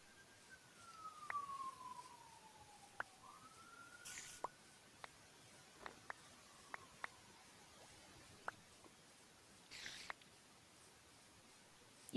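Faint, far-off sirens wail with slow rising and falling tones against a quiet outdoor hush, with scattered soft clicks and brief rustles.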